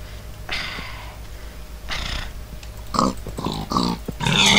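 A pig in a video game gives a run of short grunts and snorts, a few spaced bursts that grow denser and louder toward the end, heard alone without talk.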